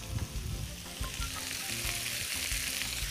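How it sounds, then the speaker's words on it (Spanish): Potatoes, red peppers and chorizo sauté in a pan, seasoned with thyme, salt and pepper, giving a loud, continuous sizzle with soft stirring scrapes and no voices. "Esto lo vamos a dejar que se vaya sofriendo."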